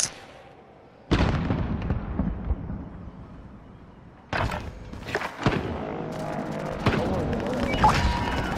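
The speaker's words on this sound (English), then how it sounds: "Throw a nade." Grenade explosion in a video game, heavy booming blasts with loud crashes at several points over continuous gunfire and action noise, close and dense.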